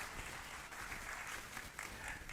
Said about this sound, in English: Let's have a beautiful hand clap for Sally Barron and Mike Soto